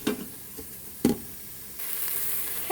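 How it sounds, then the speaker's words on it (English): Onions sauté in an Instant Pot, with a soft, steady sizzle and a couple of brief stirring clatters, quiet and close. "So let this onion saute up nicely."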